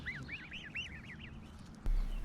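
Geese honk in a quick series of nasal calls, several overlapping, fairly near, followed by a sudden louder rustle or bump near the end.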